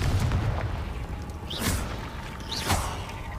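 Confringo fire spell cast in Hogwarts Legacy, with two sharp whooshing blasts about a second apart, each ending in a booming burst over a rumbling game background.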